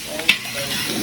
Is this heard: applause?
no